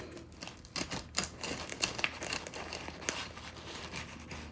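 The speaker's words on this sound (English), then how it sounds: "I'm just going to cut off this end piece, and this end piece is the perfect sample piece." Serrated knife sawing the end piece off a thick sourdough loaf, a close, dry crackling of crust with rapid irregular crunches and rasps throughout, fairly quiet and with no talking.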